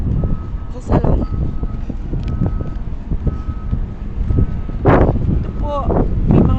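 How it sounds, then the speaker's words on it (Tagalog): Large vehicles passing along a road with a truck's reversing beeps sounding at a steady interval, engine rumble and wind noise throughout, and a voice speaking over it. "may mga malalaki na namang sasakyan"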